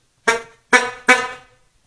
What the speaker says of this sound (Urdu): یہ اس کا جو اس زمانے کا یہ ہارن تھا وہ ابھی تک انٹیکٹ ہے